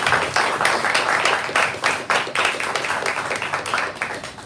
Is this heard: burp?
no